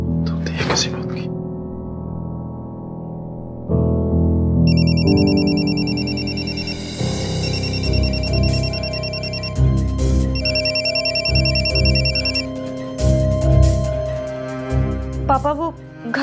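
An electronic phone ringtone plays a repeating melodic pattern for several seconds, fairly close, with voices talking and background music around it.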